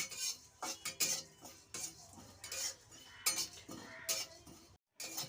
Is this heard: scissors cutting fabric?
no